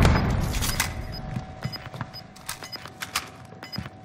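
In the Warzone video game, a grenade is thrown amid rapid, scattered gunfire, with sharp, repeated cracks and thumps over a constant busy battlefield background.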